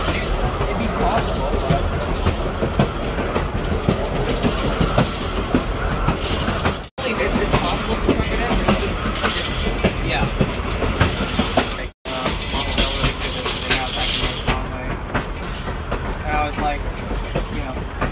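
Conway Scenic Railroad Gertrude Emma passenger train rolling on rails near North Conway, a loud continuous rumble with clattering wheel noise, recorded from inside the train, with people talking under it and two brief dropouts.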